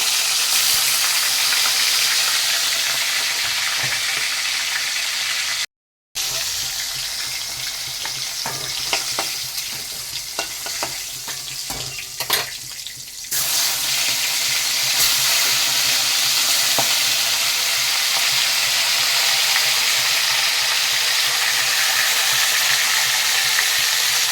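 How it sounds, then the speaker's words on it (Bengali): Pieces of desi magur catfish fry in hot oil, a continuous close sizzle with crackles and occasional clatter from turning them, a brief dropout early on, and no talking. "বাকি মাছগুলো একইভাবে ভেজে নেবো"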